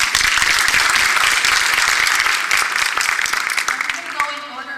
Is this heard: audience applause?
yes